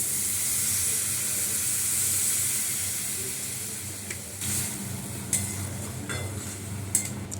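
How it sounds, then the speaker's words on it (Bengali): Water poured into a frying vegetable curry with soft kofta balls sets off a loud steady hiss and sizzle that fades into quieter bubbling, broken by a few sharp clinks of a stirring spoon. "একটু জল দিয়ে দিচ্ছি।"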